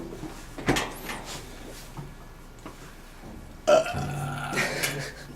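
A loud burp erupts in two bursts, one early and a longer one later, amid quiet room noise with faint clatter.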